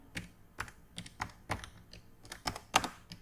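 Light, irregular keystrokes on a computer keyboard while a database record is being entered, a dozen or so close clicks in quick succession with no talking.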